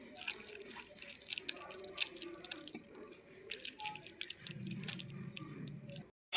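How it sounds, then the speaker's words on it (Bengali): Soaked hibiscus flowers are mashed by hand in water, with wet squelching, squishing and dripping splashes coming in irregular bursts close by, and a soft voice faintly underneath. "এখন এগুলোকে আমি চটকে নেব।"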